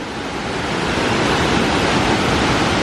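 Twin Falls at Rock Island State Park, Tennessee, heard up close from the rocks at its base: a loud, steady broadband roar of falling water that never lets up.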